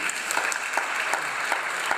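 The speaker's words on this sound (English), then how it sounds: "each gaining a big round of applause from the audience" Audience applause at a Montgomery city council meeting on violent crime, a steady round of many hands clapping that fills the room at moderate level with no talk over it.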